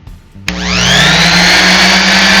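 A Ryobi RS290G orbital sander switches on with a sharp click and its motor spins up to a high, steady whine. The loud, close hum holds with no talk over it.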